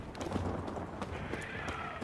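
Horse hooves clopping in The Witcher 3, a soft, steady patter of light thuds over a continuous game ambience, with faint higher tones drifting through the background.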